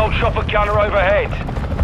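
A gunner helicopter passes overhead in Call of Duty: Modern Warfare II, its rotor drone low and steady beneath a radio-style voice speaking throughout.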